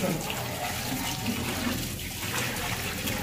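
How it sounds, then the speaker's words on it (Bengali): Chicken meat being washed under a running kitchen tap, a steady broadband rush of water splashing in a sink, continuous and close throughout. "খুব সুন্দর করে মাংসটা সুন্দরভাবে ধুতে হবে।"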